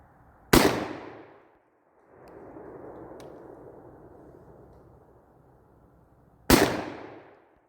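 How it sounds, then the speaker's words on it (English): Double-barrel shotgun fired twice at a target, two sharp, loud close blasts about six seconds apart, each trailing into a rumbling echo, with a low outdoor rumble between them. "we're just gonna skip to pulling the triggers both at the same time because I didn't bring enough shotgun shells to just keep shooting"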